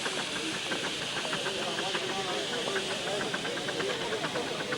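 A 7¼-inch gauge model LNER B1 steam locomotive, number 61403, built by G. Cockle in 1988, hisses steadily with a broad, constant steam wash and faint rhythmic ticking running beneath it throughout.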